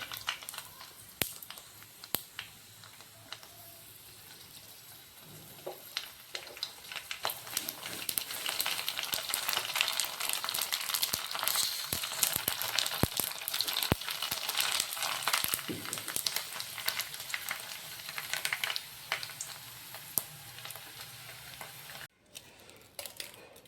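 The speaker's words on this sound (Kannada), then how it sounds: "ಬಿಸಿ ಬಿಸಿ ಎಣ್ಣೆ ಒಳಗೆ ಹಾಕ್ಬೇಕ್ರೆ ಚಲೋ ಸುಡ್ತಾವೆ." Puris frying in hot oil for masala puri, a continuous crackling sizzle that swells louder partway through, dotted with sharp pops and stirring clicks, close and with no voices.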